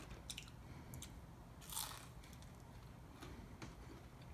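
Crunchy fried mochiko chicken being bitten and chewed up close, giving a few faint, sharp crunches with one louder bite partway through and no talk.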